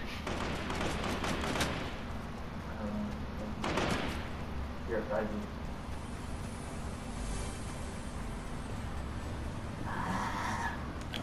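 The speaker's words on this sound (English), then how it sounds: "there's some gunfire over here" Gunfire in the video game Fortnite: a few bursts of shots crack out at intervals against a dense, steady background of game noise, moderately loud and somewhat distant.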